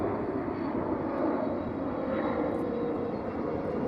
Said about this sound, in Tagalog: Yun, merong airplane na naman.